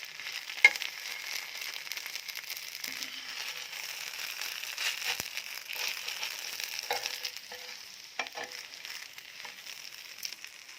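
Rice-flour batter for patishapta pitha fries in a pan with a soft, steady sizzle, punctuated by a few light scraping and crinkling touches from the spatula.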